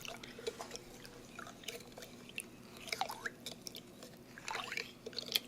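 A metal spoon stirs Zulka Mexican cane sugar into hibiscus water to dissolve it, giving faint, irregular clinks and soft liquid swishing against quiet room noise.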